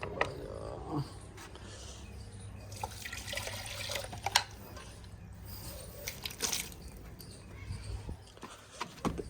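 Water is poured for a pigeon, a soft trickling and splashing with small drips and clinks, faint and close, with no talking.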